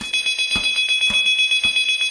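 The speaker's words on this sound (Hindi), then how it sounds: "एक डार्क स्टोर में फोन की घंटी बजती है।" A shrill electronic phone ringtone chirps in rapid repeating pulses inside a delivery dark store, loud and continuous, with a steady high tone running through it.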